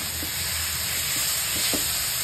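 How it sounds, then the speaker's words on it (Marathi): Vegetables with salt and garlic sautéing in oil in a pan, a steady soft sizzle with a few faint stirring taps, alone. "थोडीशी परतून घ्यायची तेलावर, कारण वाफवलेली भाजी."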